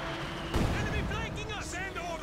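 Artillery and rocket fire in the Company of Heroes 2 strategy game, a heavy blast followed by rolling rumble and whistling rockets, with a commentator talking over it.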